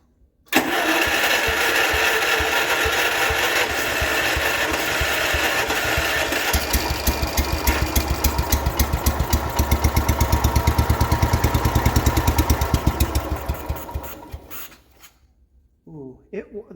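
The engine of an abandoned 1969 John Deere 112 lawn tractor catches and runs loud and steady for about fourteen seconds with a choppy, surging rhythm, then sputters and dies, followed by brief quiet and a few faint knocks.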